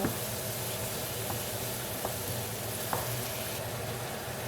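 Mushrooms frying with onion and garlic in a pan, a faint continuous sizzle and hiss with occasional soft stirring taps, heard alone without talk.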